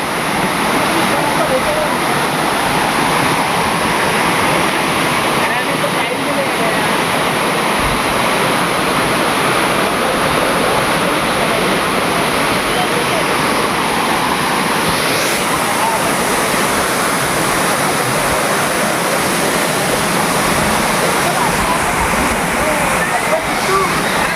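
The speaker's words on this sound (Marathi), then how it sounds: "आपण आतमध्ये आलो आहे धबधब्यात" Roaring roadside waterfall in Konkan on the Mandangad–Vesvi road, loud and continuous, a steady rushing wash that fills the whole clip, with voices barely audible beneath it.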